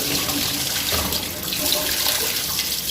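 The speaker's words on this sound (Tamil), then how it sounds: "பாருங்கள், டீப்பு சைடில் உள்ள எல்லா தண்ணியும் வெளியே வருது." Water drains out of the tube of a pressure booster pump's air tank in a continuous splashing, gurgling stream, close and steady across the short stretch with no talk.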